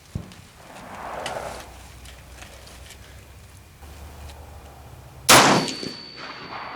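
A single loud M1A rifle shot cracks out at an outdoor range, followed by a ringing metallic ping from a steel diamond target that lingers and fades over the last seconds, after a quiet stretch of faint background sound.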